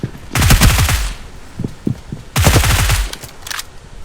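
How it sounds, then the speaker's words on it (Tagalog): Two loud bursts of rapid automatic gunfire as people shoot, each a dense string of close shots, separated by a quieter stretch with a few isolated single bangs. "Nagbabarilan sila."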